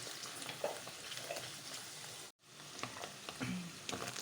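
Mushrooms frying with salt and dried garlic in a pan, a soft continuous sizzle with light stirring noises, close and quiet, broken by a brief cut of silence midway.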